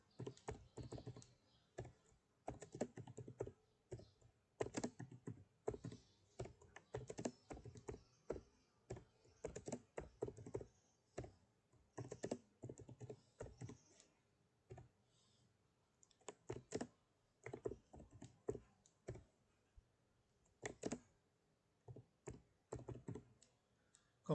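Names being typed on a computer keyboard, a quiet, close run of irregular key clicks in bursts with short pauses, with no talking.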